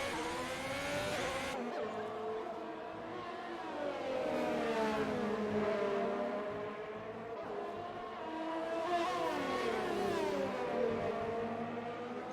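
A Ferrari Formula 1 car engine is heard onboard, a loud high-pitched scream that rises and falls through gear changes, with repeated surges of acceleration and lifts for braking across the run.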